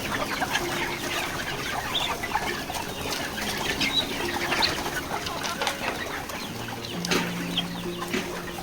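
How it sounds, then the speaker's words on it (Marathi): Backyard poultry hens released from their coop cluck and squawk busily at close range, with bursts of wing flapping and scattered calls over a steady farmyard background. "आता सर्व कोंबड्या सोडतो"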